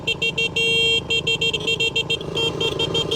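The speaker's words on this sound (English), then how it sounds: "This is where you give Cornet a bit of a honk." A horn on an enduro motorbike sounds in short, repeated toots, then one longer held blast, all close and loud over a steady engine hum.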